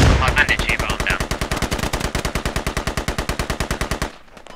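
Loud automatic gunfire in the military shooter game Squad: a long, rapid, steady burst of about forty shots close up, then it stops abruptly, leaving a quieter tail.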